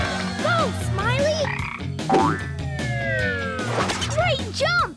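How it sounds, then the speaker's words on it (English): A cartoon frog croaks in a series of loud, close, warbling ribbits amid a busy soundtrack with sliding siren-like tones and bright music; characters talk over it. "Very important frog coming through."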